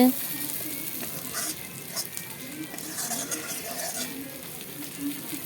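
Capsicum and tomatoes fry together with spices in a pan for a vegetarian potato and eggplant dish, giving a constant close sizzle with soft stirring throughout.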